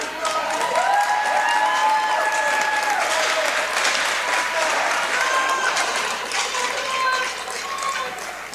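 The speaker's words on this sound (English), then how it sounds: "A round of applause" The home crowd at an ice hockey rink applauds as the championship trophy comes onto the ice at a league final, a loud, sustained roar of clapping and cheering with faint tonal sounds threaded through it.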